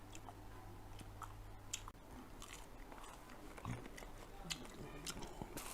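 Crunchy shrimp head being bitten and chewed at a Thailand market stall, a soft close crunching and munching that runs throughout under faint background noise.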